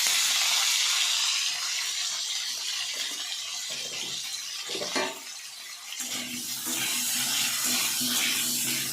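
Potato pieces drop into hot oil with a loud, steady frying hiss that briefly swells and dips before settling into continuous sizzling, close and without voices.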